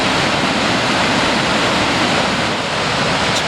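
The Boulder River at Big Timber, Montana rushes loudly and continuously through a canyon, a dense, close roar of churning whitewater with no voices.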